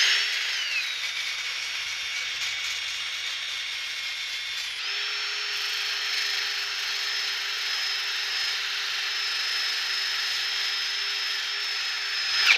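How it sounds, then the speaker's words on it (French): A power sander working a metal exhaust with coarse 40-grit abrasive gives a continuous high whirring grind that holds steady throughout, shifting pitch slightly midway, close and loud with no voices. "je vais d'abord la poncer avec quelque chose de très abrasif pour enlever le surplus"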